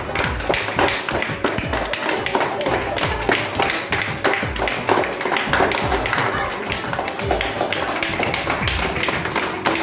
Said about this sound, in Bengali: বাহ জোরে হাততালি